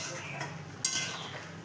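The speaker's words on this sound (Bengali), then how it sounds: "নাড়া দেওয়া হয়ে গেল" A utensil stirs ridge gourd posto in a pan with soft scraping and a single louder clink, under a faint simmering hiss.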